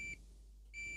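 A continuity tester beeps during a pin test on a DECWriter II terminal. Two short steady electronic tones come close and clear, split by a brief gap of near silence.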